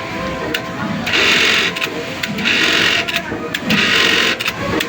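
A Juki 1900-A industrial sewing machine runs in close, loud bursts of steady mechanical whirring, three main stretches separated by short pauses, with a low hum throughout.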